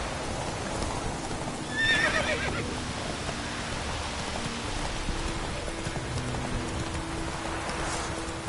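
A horse whinnies loudly over steady rainfall in The Witcher 3, with faint hoof clip-clop and a later, softer neigh against the constant wash of rain. No one speaks.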